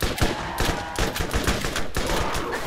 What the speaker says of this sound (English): this SMG is really only useful at extreme close range